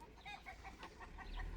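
Chickens cluck in a quick, faint series of short calls, a little distant, over a low rumbling background.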